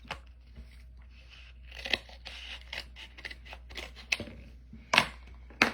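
Scissors snip through cardstock during handmade card layering, a series of short, close crisp cuts and rustles spaced irregularly over a quiet room, with a few sharper snips near the end.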